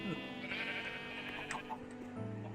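Sheep in the game Minecraft bleat once or twice at moderate level over steady background music-like tones, in a farm pen.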